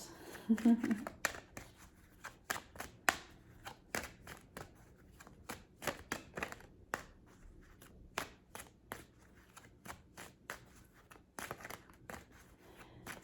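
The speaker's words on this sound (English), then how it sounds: "I'm shuffling these cards" Tarot cards being shuffled over and over, a rapid run of crisp riffling clicks and flicks, close and fairly quiet, with soft background noise.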